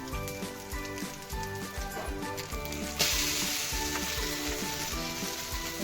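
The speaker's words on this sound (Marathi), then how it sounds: "आणि पॅन वरती टाकणार. थोडं ऑइल टाकणार आहोत." Egg-dipped bread frying in a little oil in a pan, a steady close sizzle with a brighter, louder burst of crackling partway through.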